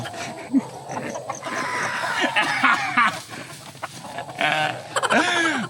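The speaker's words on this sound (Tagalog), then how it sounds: "Okay, release the chickens!" Farm chickens cluck and squawk in a busy flurry as they are let loose, several birds calling at once nearby with sharp, uneven bursts and no speech.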